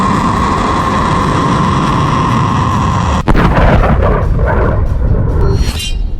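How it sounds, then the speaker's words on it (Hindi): A missile warhead explosion from Iran's Khorramshahr missile, carrying a 2000 kg warhead: a sustained roar gives way to a sudden loud blast with rolling, rumbling aftershocks, heard alone without speech. "ये मिसाइल 2000 किलो के वॉरहेड का धमाका करती है।"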